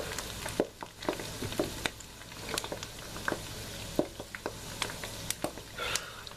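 Pork skin cracklins frying in oil on a stove, with a steady low sizzle and scattered sharp pops and spatters close up, no talking.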